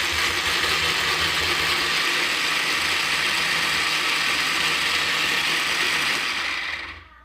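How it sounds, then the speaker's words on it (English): A blender grinds onions, chili and spices into a rendang paste, giving a loud, continuous whirring drone up close that runs unbroken for several seconds before cutting off. "So all this will go into the blender, the wet ingredients first"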